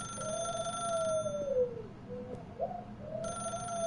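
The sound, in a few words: telephone ringing in The Stanley Parable video game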